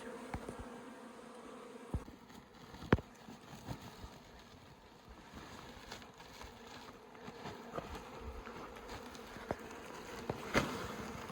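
Wild honey bees buzzing during a honey hunt outdoors, a faint steady drone with occasional sharp knocks and clicks, no talking.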